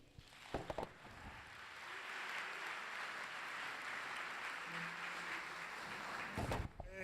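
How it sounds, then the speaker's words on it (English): An audience applauding at a media briefing and launch event, sustained clapping that swells after a couple of brief knocks and continues evenly, with handling noises near the end. "Another big round of applause for Dr. Mtebu"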